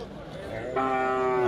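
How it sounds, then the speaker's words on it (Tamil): A large cow moos loudly and close by at the Vaniyambadi cattle market in Tamil Nadu, a single drawn-out low call rising over faint market chatter and crowd background. "பெரிய சைஸ் மாடுங்க"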